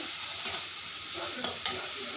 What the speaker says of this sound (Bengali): মশলাগুলো দিয়ে দিচ্ছি, মশলাগুলো ভালো থেকে ভাজা হয়ে যায়।